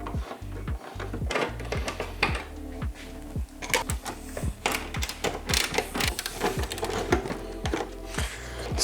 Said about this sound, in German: Dafür müssen wir als erstes hier unten das Verbindungsteil in der Mitte wegschrauben.